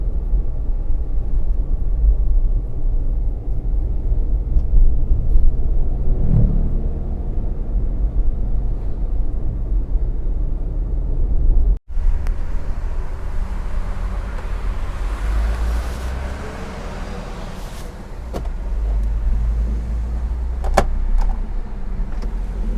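Daihatsu Gran Max with modified suspension driving toward a toll road, a continuous low road and engine rumble from inside, broken by a sharp click near the middle and brief whirring afterward.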